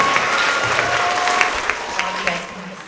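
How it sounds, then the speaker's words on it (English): A school assembly audience of students and families claps together for grade 4 and 5 award winners, a dense, steady applause at moderate distance that slowly tapers toward the end. "Let's have another round of applause for all of our 4th and 5th grade Tigers of the Quarter."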